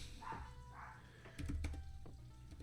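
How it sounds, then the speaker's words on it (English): Chihuahua barking in the background, two short yaps followed by a few fainter yips and whimpers, quiet and distant in a room. "If you hear my dog in the back, it's fine. It's a Chihuahua."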